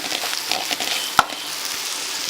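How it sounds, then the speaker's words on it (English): Chili powder and mixed masala fry and get stirred in a pan for Maharashtrian misal pav, a soft steady sizzle with light scraping and one sharp clack of the spoon, close up. "and we'll stir it"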